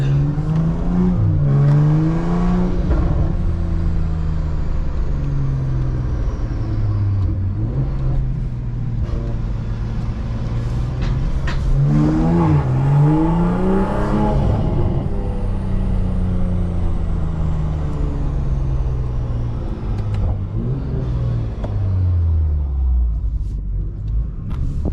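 A BMW M340i fitted with a catless downpipe accelerates repeatedly, its deep engine note rising and falling through gear changes with a loud droning rumble throughout, close and continuous with no speech.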